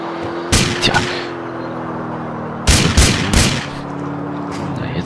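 Gunfire in the video game GTA 4: two bursts of loud, booming shots, the first a short cluster and the second a longer volley of several cracks, over a steady low game hum.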